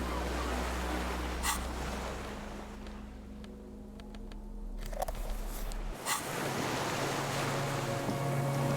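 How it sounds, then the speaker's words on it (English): Ambient waterside scene in the game Disco Elysium, with distant cargo ships and signal horns carrying over the water: a steady rushing wash of wind and surf, a low sustained hum, and a brief shift midway. "The distant sound of cargo ships. Signal horns echo on the water."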